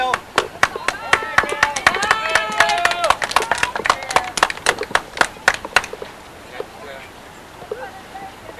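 A small group on a rafting trip claps in sharp, irregular bursts outdoors, loud and close, with voices talking and laughing over the claps before they fade into quieter ambience.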